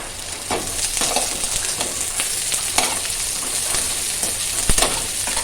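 Sliced onion with salt frying in a pan while being stirred, a dense close sizzle broken by scraping strokes of the spoon at an irregular rhythm, with no voices.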